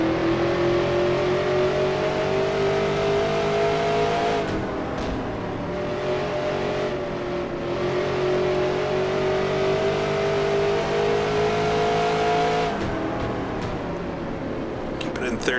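A 1966 NASCAR Grand National race car in a racing game revs hard near the top of its range, a loud steady engine drone with brief gear-shift dips, while someone talks over it.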